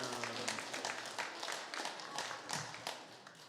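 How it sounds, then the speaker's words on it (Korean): Church congregation clapping together during a worship service, a dense, steady burst of many hands lasting several seconds, with faint voices underneath. "박수로 영광 올립니다"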